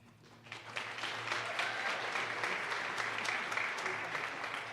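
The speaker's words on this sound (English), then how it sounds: "let's save our applause until the end" An audience at a winter concert band performance applauds a young percussionist, dense clapping swelling quickly and holding steady over a faint low hum in the hall.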